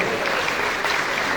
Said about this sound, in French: On applaudit encore une fois Amos Coulange et Jackie Amboise.